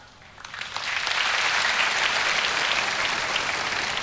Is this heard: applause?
yes